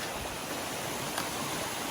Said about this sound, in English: we can hear the water now, so we know we're getting somewhat close